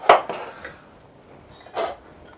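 Ingredients dropped into a cooking pan for homemade tomato ketchup: two sharp metallic clatters with a few lighter knocks between, close by and without talk.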